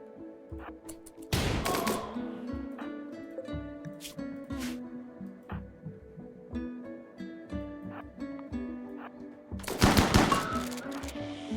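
Gunfire in a RimWorld fight: rapid bursts of shots crackling in uneven clusters, with two louder blasts at the start and near the end, all fairly faint.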